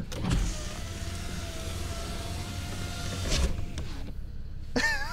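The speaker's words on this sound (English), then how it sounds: "Powered windows. And they go up." Power windows on a Ford truck glide up with a steady electric motor whine, close and continuous for several seconds, ending in a soft thunk as the glass seals.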